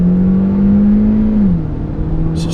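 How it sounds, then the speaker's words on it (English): A 2017 Kia Soul Turbo engine pulling hard in Sport mode, a loud, steady droning hum that holds its pitch, then dips slightly as the gear changes, heard from inside the cabin. "So strong urge on the upshifts and strong pulling power from this engine."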